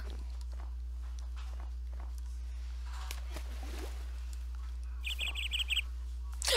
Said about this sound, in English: look, it's a bird!